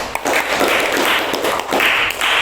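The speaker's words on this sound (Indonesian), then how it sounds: "Tepuk tangan dulu" Students in a classroom clapping together, a brief burst of dense, close applause that swells and fades twice, with a few separate taps at the start.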